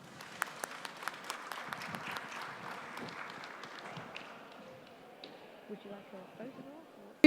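Audience applause at the closing of an AI summit at India Mobile Congress, crisp claps at first then thinning into a softer patter that fades, with a few voices murmuring near the end.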